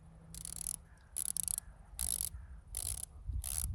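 A diving watch's unidirectional ceramic bezel is turned in quick bursts of crisp ratcheting clicks, five short runs with pauses between, close and quiet.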